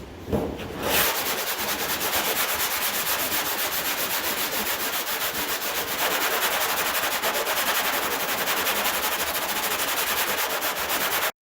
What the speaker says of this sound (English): Then I'll get some 80 grit on both of these and finish it out with 80.